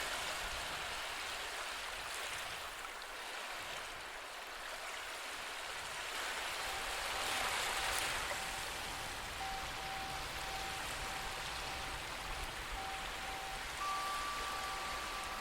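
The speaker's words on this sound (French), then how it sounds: "Écoute attentivement le bruit des vagues qui se brisent doucement sur le rivage" Gentle waves break softly on a shore in a steady, continuous wash of water that stays fairly quiet and even throughout, with a faint thin tone appearing near the end.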